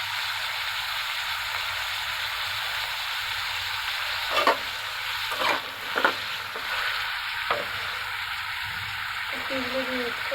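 Potato, onion and cauliflower frying in a pan for a vegetable bhuna with dried fish, a steady close sizzle with several short scraping stirs and clinks, a voice speaking briefly near the end.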